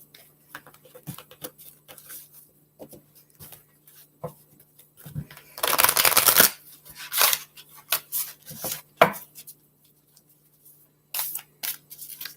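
Soft papery rustling and scattered clicks as large oracle cards are shuffled, with a brief louder burst of riffling cards in the middle, then more intermittent shuffling sounds.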